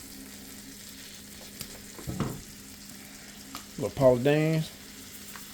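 Country-style patty melt frying in butter with blackened seasoning in a pan, a steady soft sizzle underneath while someone talks over it.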